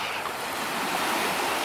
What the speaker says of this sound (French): Il y a quelques vagues, donc c'est sympa.